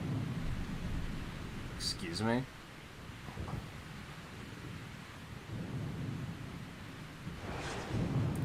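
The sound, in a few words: thunder from lightning attacks in Mario Golf: Super Rush video game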